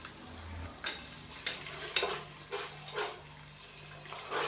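Cumin, bay leaves, cinnamon, cloves and ginger garlic paste fry in a pan under a soft, steady sizzle, with several rhythmic bursts of spoon stirring and scraping at close range and no talk.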